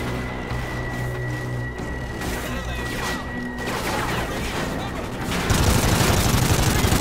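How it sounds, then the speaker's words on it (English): Gunfire in the video game Call of Duty Ghosts, bursts of automatic shots and impacts that grow louder toward the end, over game ambience, no one talking. "Shit, they're shooting!"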